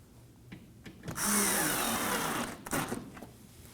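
A power tool drives a Phillips screw into the front bumper cover of a 2016-2020 Kia Sorento 2.4L, giving a loud close whirr of about a second and a half, set between quieter clicks and handling noises.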